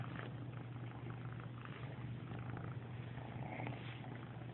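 Two kittens purring, a low, continuous rumble, soft and steady, close by with no voices.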